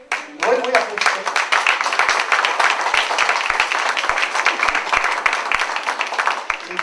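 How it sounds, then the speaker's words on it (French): A church congregation breaks into clapping, distinct individual hand claps forming a lively, uneven rhythm close by, with a voice briefly audible at the very start. "Oui, applaudissez."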